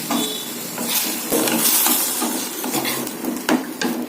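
Snake gourd and coconut being stirred in a covered pan, with repeated metallic clinks of a utensil against the pan and lid over a steady cooking hiss, close and fairly loud, no voices.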